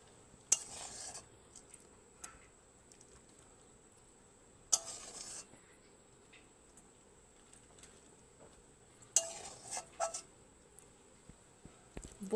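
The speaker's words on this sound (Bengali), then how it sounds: "চলুন এবার এটাকে একটা প্লেটের মধ্যে নামিয়ে নিই।" A cooked fish-oil dish is moved from the kadai onto a plate in three short bursts of scraping and clinking utensils, with quiet stretches between them.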